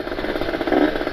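A Kawasaki Ninja RR two-stroke with a ported engine and an ABRT20 galvanized aftermarket racing exhaust (40.5 mm, 26 mm stinger) burbles at a steady idle close by, with a slight swell in loudness near the end.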